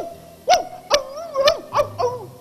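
A small dog gives five sharp, high-pitched yips, evenly spaced and close, with quiet in between.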